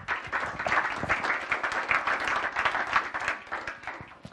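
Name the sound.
round of applause for Robin Chase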